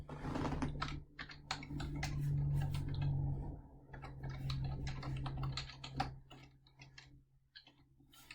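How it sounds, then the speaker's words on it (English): Quiet, close typing on a computer keyboard while a math homework problem on integration by parts is written up, with irregular clusters of light key clicks over a steady low hum. "let's type this up"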